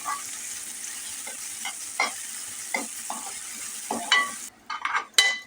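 Grated carrot and chopped potato sautéed in a pan for dal khichdi, a soft sizzle under repeated scraping strokes of a spoon, close and fairly quiet, with no voices.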